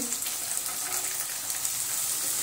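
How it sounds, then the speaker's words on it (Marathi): Beans sauté in a pan with peas for a Kolhapuri vegetable masala, giving a soft, steady, hissing sizzle throughout, fairly quiet and with no talking. "बीन्स परतून घेतलेले आहेत"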